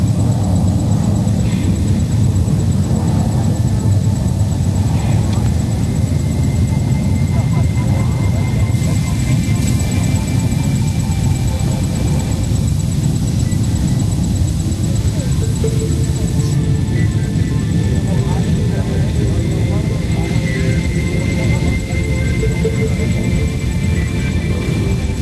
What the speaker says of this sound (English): as the load is dropped from the aircraft, the extractor chute opens, pulling the load out